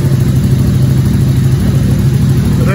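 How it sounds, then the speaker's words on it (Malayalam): A KTM Super Duke 1290 motorcycle with an Akrapovic full-system exhaust runs loud and close, a deep steady engine roar that swells slightly as it revs. "നമുക്ക് നമ്മുടെ സൂപ്പർ ഡ്യൂക്കിൻ്റെ സൗണ്ട് കൂടെ കേട്ട് നോക്കാം"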